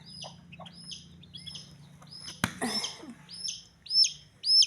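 Young chicks, one of them weak and unable to walk, give high, thin peeps in short repeated bursts that grow louder toward the end. A low hum sits under them and a sharp knock comes midway, with no talking.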